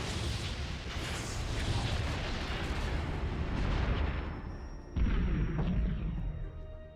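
A reactor explodes and destroys a station in a Star Wars space game, a dense roaring rumble of blasts that swells, then hits with a sudden heavy boom near the end before trailing off.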